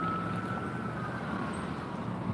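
A steady wash of traffic rumble fills the background while a distant siren holds a sustained wailing tone above it.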